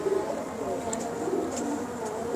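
Pigeons cooing softly on a rooftop loft, low repeated coos under a steady background murmur.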